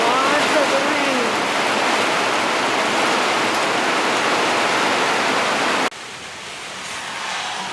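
Heavy rain pours down steadily around 9 p.m. during a thunderstorm, a dense, loud, continuous hiss that drops suddenly to a quieter wash near the end.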